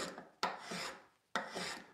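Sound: Veritas flat bottom spokeshave shaving wood

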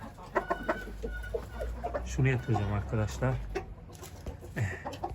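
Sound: chickens clucking in backyard flock

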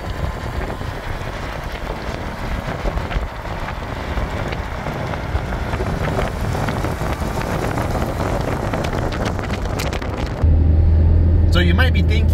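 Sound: 1997 Subaru Vivio Bistro Supercharged driving on the freeway

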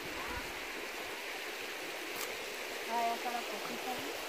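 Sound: river flowing at a pool

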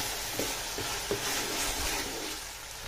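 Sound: ginger garlic paste frying in oil

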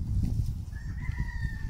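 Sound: rooster crowing

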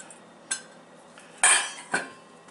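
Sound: spoon scooping avocado flesh from the skin

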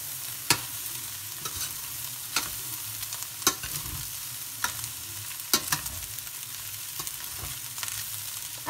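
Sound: stirring fried rice in a pan

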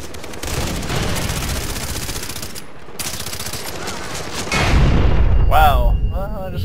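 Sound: grenade explosion and gunfire in video game Far Cry 3

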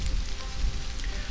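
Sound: rain falling in the video game Stranded: Alien Dawn

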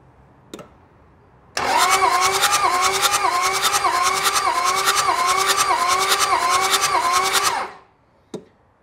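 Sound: Toyota Land Cruiser diesel engine cranking during compression test

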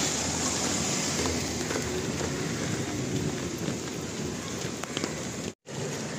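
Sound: rain

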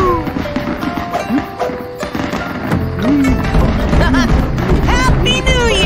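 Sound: fireworks in the Dr. Panda video game

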